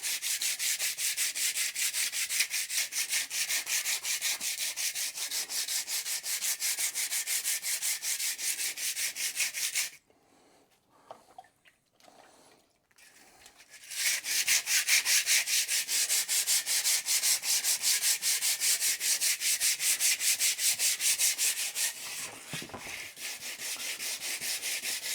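Steady hand sanding with 80 grit sandpaper on a BSA wedge motorcycle fuel tank, a continuous gritty rubbing with a short pause near the middle before the strokes resume, close and fairly loud with no talking.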